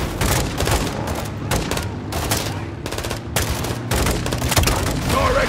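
Dense automatic gunfire and booming blasts, including a launcher explosion, fill a firefight in Call of Duty: Modern Warfare 2 (2022), loud and continuous with overlapping shots.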